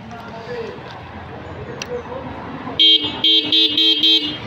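A Bajaj Platina motorcycle horn gives about five short, loud, evenly spaced beeps near the end, after a stretch of background noise with a voice.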